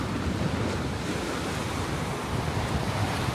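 Atlantic Ocean surf breaking on a beach in Shetland, Scotland, heard as a steady, loud, full-band wash of waves with strong wind buffeting the microphone throughout and no talking.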